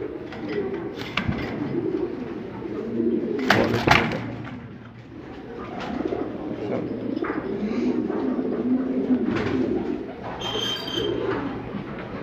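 A breeding pair of pigeons, a top-class black Lahore male and a black checker female, coo repeatedly at close range in a busy loft, with other birds' soft calls and chirps around them.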